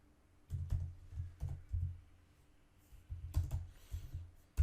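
Typing on a computer keyboard, close and quiet: short bursts of key clicks separated by pauses, with no talking.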